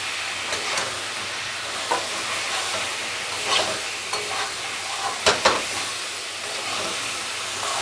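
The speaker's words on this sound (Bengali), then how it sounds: "এখন মাশরুমটা দিয়ে সাঁতলাতে হবে।" Halved mushrooms sizzle and fry in hot oil for a mushroom biryani while being stirred, a steady crackling hiss broken by a few sharper scrapes and clacks, close and alone without voices.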